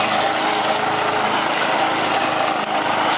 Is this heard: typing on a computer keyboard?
no